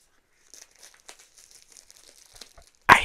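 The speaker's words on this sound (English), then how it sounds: "Gonna put the mic down while I take the cellophane off." Cellophane wrap is peeled off a Doctor Who DVD box set, with scattered faint crinkles and rustles building up to a sudden loud crackle of plastic at the end.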